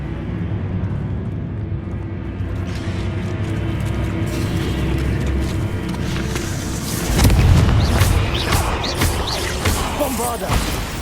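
A magical blasting spell cast in Hogwarts Legacy, heard as a loud rumbling boom that swells midway and trails into crackling debris over a continuous mechanical game soundscape.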